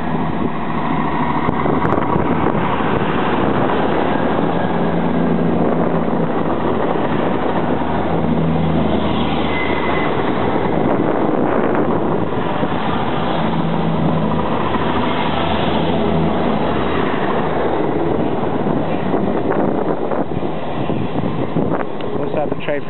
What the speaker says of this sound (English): Here comes the cross-country train behind that.